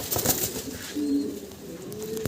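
Restless Modena pigeons on a farm coo softly and shuffle about in a brief, close burst of low calls over a busy rustling background.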